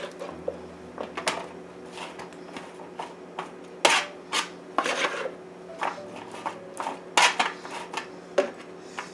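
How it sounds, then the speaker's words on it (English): Chicken cordon bleu being laid into a metal sheet pan, a series of sharp clanks, scrapes and taps at an irregular pace over quiet kitchen background, close and fairly crisp. "Now we're going to go ahead and put this in a sheet pan"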